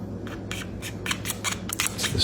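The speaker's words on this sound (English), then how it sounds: "Go back in with your same super sharp knife, and we're gonna cut a little V shape in the top of the strawberry." A super sharp knife slices a small V shape into the top of a fresh strawberry, a quick run of crisp, close cutting clicks that grow slightly louder toward the end.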